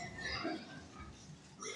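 Low grunting from a pregnant sow standing in a farm pen, quiet and close, a few soft snorts running through the short stretch.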